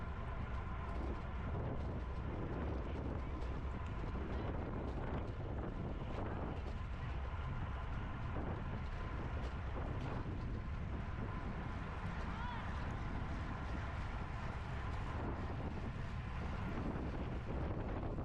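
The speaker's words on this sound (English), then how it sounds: "it's windy, it's loud out there" Heavy wind buffets the microphone in a constant loud rumble at an outdoor women's bicycle race in California, with a faint voice occasionally audible underneath.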